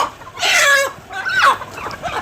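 Tiger breed chickens on a breeder farm cluck and call close by in two or three loud bursts, with a rooster among them and no talking.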